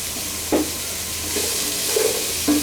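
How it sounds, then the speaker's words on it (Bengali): Long beans, carrot and cauliflower sizzle in a pan, a continuous close frying hiss broken by a few clinks and scrapes of stirring, with no talking. "আগে থেকে কেটে রাখা আমার এটা হচ্ছে বরবটি গাজর ফুলকপি"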